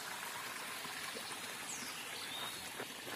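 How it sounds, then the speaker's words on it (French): A small river and little waterfall flowing outdoors at a campground, a steady soft wash of running water with faint trickling and splashing detail, fairly distant and even throughout. "c'est joli là, avec la petite rivière, petite cascade là"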